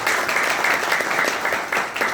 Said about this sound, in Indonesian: Jadi tepuk tangan untuk LYC.